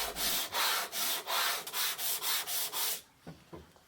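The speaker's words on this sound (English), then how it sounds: "After a few minutes of sanding," Rhythmic back-and-forth scraping of a metal woodworking hand plane part rubbed on a sanding board, about ten close strokes in a steady cadence, then a few quiet taps.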